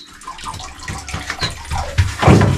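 Water running from a tap into a container outdoors in a village, a steady splashing gush that grows louder and fuller toward the end, with no talk over it.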